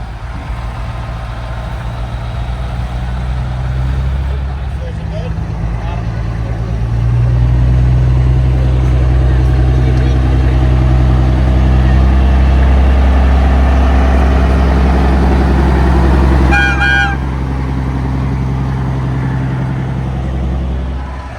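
Big rigs rolling past at a truck show, deep diesel rumble swelling loud and close for several seconds then easing, a brief high air-horn or whistle note near the end, no talk.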